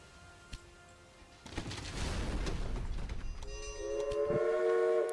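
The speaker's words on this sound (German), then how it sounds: "Jetzt müssen wir noch den Zug fahren lassen." A train set running in the railway management game Railway Empire, with a broad rumbling rise of rolling noise followed by a sustained tonal horn or whistle near the end, clear and with no speech.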